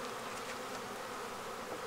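Honey bees in a wooden beehive being opened for winter preparation produce a brief, steady close buzz, fairly soft and unbroken.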